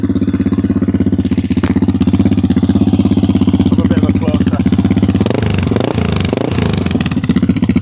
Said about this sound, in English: So it's like a proper thumper sound. It sounds wicked, honestly.